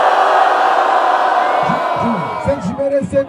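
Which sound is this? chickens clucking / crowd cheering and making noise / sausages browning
crowd cheering and making noise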